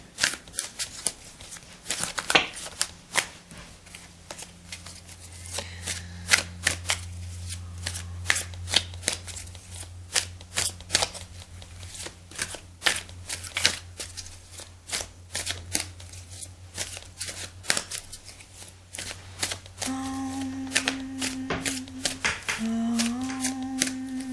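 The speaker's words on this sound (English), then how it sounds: "So I'll just give the cards a shuffle." Tarot cards are shuffled over and over, crisp riffling and slapping bursts in a busy, uneven rhythm, with a low hum underneath and faint tones near the end.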